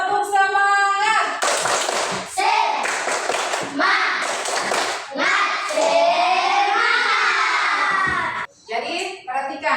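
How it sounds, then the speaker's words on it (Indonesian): A classroom of children and their teacher perform the Indonesian 'tepuk semangat' rhythmic clapping chant for encouragement, sharp claps mixed with loud chanting voices in Indonesian close by, running continuously for about ten seconds. "ayo kita tepuk semangat. Tepuk semangat."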